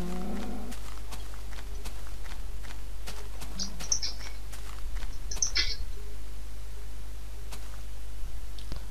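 Cows in Minecraft walk along behind the player with soft footstep taps, and a few short moos stand out in the middle over a quiet game background.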